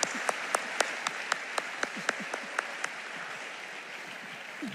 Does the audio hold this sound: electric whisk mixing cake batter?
no